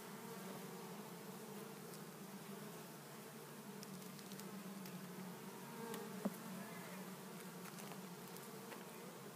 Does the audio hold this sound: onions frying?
no